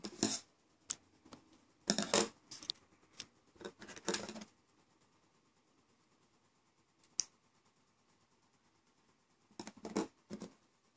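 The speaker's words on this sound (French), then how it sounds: "je vais couper le surplus de fil" Small scissors trim off excess thread from a fabric cherry blossom flower, giving quiet, close clicks and snips in short clusters with long silent gaps.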